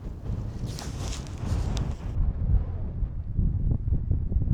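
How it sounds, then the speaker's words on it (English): Strong wind buffeting the microphone on the exposed coast of the Isle of Ulva, a continuous loud roar with gusts rising and falling throughout, no speech. "It's getting really quite windy down here"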